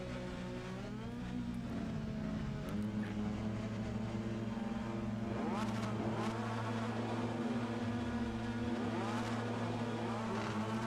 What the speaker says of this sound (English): We can hear the engines rev up.